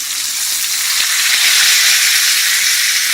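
A chuck roast browns in a hot pot, throwing off a loud, steady, bright sizzle of frying fat and steam that runs unbroken from start to finish.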